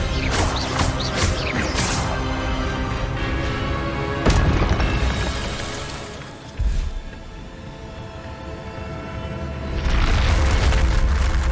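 Harry Potter video game spell effects for Incendio and Expelliarmus, a dense run of loud booming magical blasts and crackling bursts, with a sharp impact midway and a swelling roar near the end.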